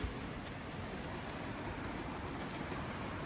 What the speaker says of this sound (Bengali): ভিজেও গেলাম একেবারে ঝমাঝম বৃষ্টি